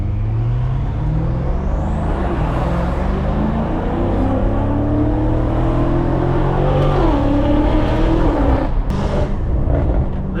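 A BMW F90 M5 Competition driving with its windows open, engine drone rising steadily as it accelerates, then a shift near the end. The sound is loud and continuous with no talking.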